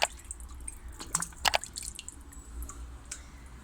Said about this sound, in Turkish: Şimdi çiçeklerimizi birer çay bardağı kadar uygulayacağız.